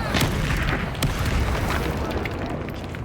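A Bombarda blasting spell explodes in Hogwarts Legacy: a dense, roaring, booming blast that rumbles continuously at steady loudness for about three seconds, with sharper crackling bursts scattered through it.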